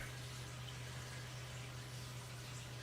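Steady rush of water pouring from a long garden hose into a bucket outdoors, continuous and fairly loud, with a constant low hum running underneath throughout.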